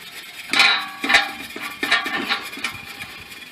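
Steel wool scrubbing a Mazda RX-8 part after degreaser, a few rough bursts of scraping strokes, close and moderately loud with gaps between.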